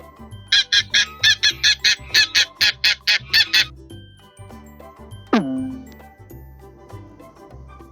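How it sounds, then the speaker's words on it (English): A farm goose honks about a dozen times in a quick, evenly spaced series, loud and close over light background music, and a chime rings out afterward. "Goose."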